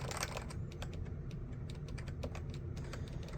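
Rapid, continuous keystrokes clatter on a BTC 5139 keyboard with BTC dome-with-slider switches, close and crisp, with no talking.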